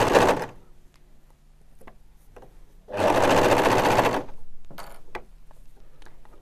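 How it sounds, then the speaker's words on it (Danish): A sewing machine runs a straight seam on fabric for baby trousers, a steady mechanical whirring burst lasting about a second, with a shorter run after it and quiet handling clicks around it. "sy den her søm på symaskinen, bare med en ligeud søm først"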